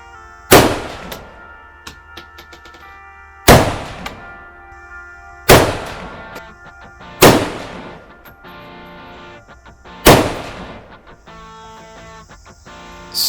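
Five loud, sharp rifle shots from a Ruger Mini crack out at an outdoor range, spaced a few seconds apart, each ringing off in a short metallic echo with no talk in between.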